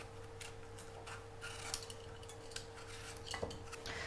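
A knife scraping and peeling the skins from roasted red peppers on a board, soft clinks and light scrapes in an irregular rhythm, quiet and close, with a steady hum beneath and no talking.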